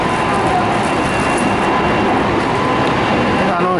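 A train pulls into Chiryu station on a rainy day, a steady close rumble of wheels and carriages with a faint metallic squeal near the end.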